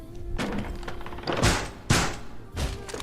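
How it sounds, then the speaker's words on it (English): Barricade going up on a door in the video game Rainbow Six Siege, heard as a few loud wooden thunks and thuds spaced about half a second to a second apart over steady game background noise. "press resume again, and barricade this door"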